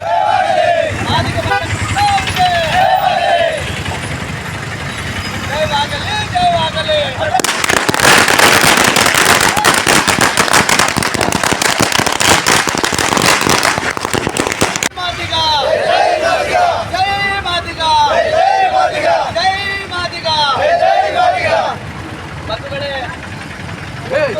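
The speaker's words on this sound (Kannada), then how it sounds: "ಪಟಾಕಿ ಸಿಡಿಸಿ ಸಿಹಿ ಹಂಚಿ ಸಂಭ್ರಮ ವ್ಯಕ್ತಪಡಿಸಿದರು" Firecrackers go off at an outdoor street celebration held by Madiga community members in Chincholi, Kalaburagi, with a long, dense burst of rapid loud crackling amid crowd shouting and people talking before and after.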